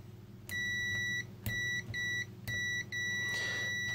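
A Kaiweets HT118A digital multimeter emits continuity-test beeps, steady high tones repeatedly cut short into broken bursts of uneven length, with faint background hum.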